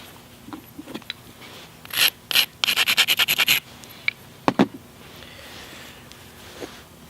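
Final edge work on a knapped flint stone: a short burst of quick, bright scraping and clicking strokes in a rapid series, followed by a few scattered taps, close and fairly quiet.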